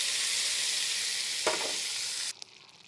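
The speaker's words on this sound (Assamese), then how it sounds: "কম জুইত মই মছলাখিনি ভাজি আছোঁ" Chili and cumin powders sizzle steadily in hot oil in a wok over low heat after onions are fried, a loud, even hiss that cuts off abruptly near the end, leaving faint quiet.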